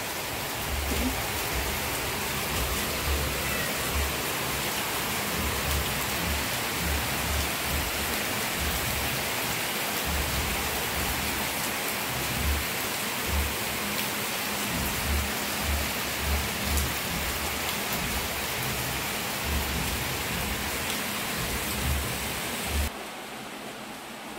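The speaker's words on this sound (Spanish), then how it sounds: "lloviendo mucho, mucho, mucho, mucha lluvia." Heavy, steady rain pouring down with a dense hiss and patter, loud and unbroken throughout, with no voices.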